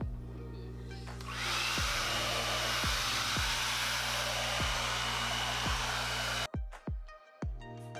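A hair dryer fitted with a diffuser, run on low heat with medium airflow, blows a steady loud whoosh of air with a low motor hum, then clicks off and sputters as it is switched around at the end.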